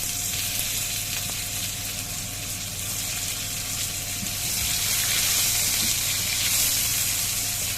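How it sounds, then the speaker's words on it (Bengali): Cut potato pieces dropped into hot oil that already holds cardamom, frying with a dense steady sizzle and bubbling hiss that swells louder toward the end. "এবার আমি টুকরো করে কেটে রাখা আলুগুলো এর মধ্যে দিয়ে দিলাম"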